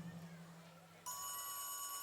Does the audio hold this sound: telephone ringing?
yes